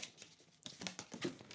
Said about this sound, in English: I'm going to give that a quick shuffle.